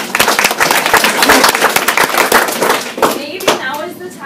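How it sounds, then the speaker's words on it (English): Audience applause, dense close clapping from a crowd that thins out toward the end, with talk and cheering mixed in. "let's give her a round of applause"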